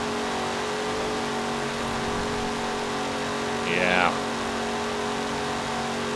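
Engine of a 1970 Chevrolet Chevelle SS with six gears in the Forza Horizon 4 video game, a steady droning hum at speed with one brief rising rev and whine in the middle, while someone talks over it.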